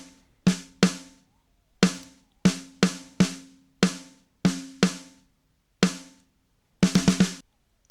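Pop punk drums processed through a classic VCA compressor in Logic: sharp, punchy kick and snare hits in an irregular pattern, about a dozen strikes ending in a quick flam-like burst, close and dry with no talking.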